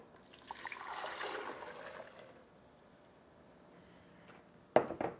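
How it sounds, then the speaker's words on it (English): Sprouted almond milk poured from a container back into a rinsed jar, a soft steady liquid trickle and splash up close that fades out, followed by a brief sharp clink near the end. "Pour the milk back in."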